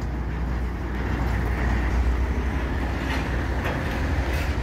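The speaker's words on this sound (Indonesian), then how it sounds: "kereta telah melewati perlintasan sekaligus jembatan ini" A sugarcane train rumbles continuously over a combined level crossing and bridge with a heavy low roar and rattling, loud and close throughout.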